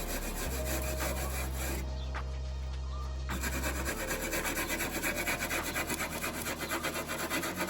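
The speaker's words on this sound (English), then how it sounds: "So I'm going to scrape all that off and make sure that's all nice and clean" Rust is scraped off the side trim area of a Sprinter van with a continuous, loud grinding rasp that runs throughout, briefly easing at one point before turning into steady rhythmic back-and-forth strokes.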